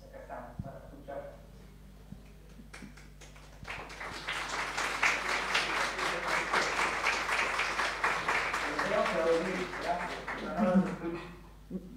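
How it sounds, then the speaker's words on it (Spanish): Audience applause after a masterclass lecture at a Bolivian film event, a sustained patter of clapping in a hall that builds and carries on under a speaking voice before fading. "aquí estamos aplaudiéndote"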